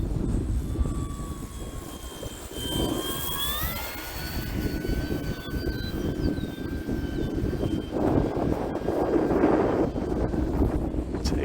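E-flite T-28 1.2m RC model airplane on a 4S battery flying in wind, its electric motor whining and shifting pitch as it passes and turns, with steady wind buffeting the microphone and a voice talking faintly underneath.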